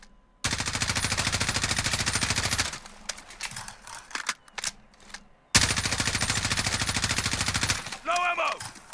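An M4 SOPMOD Block II with a tactical laser firing in Call of Duty Modern Warfare: two long, loud, close bursts of rapid automatic fire separated by a short pause full of scattered clicks and thuds.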